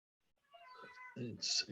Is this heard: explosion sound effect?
no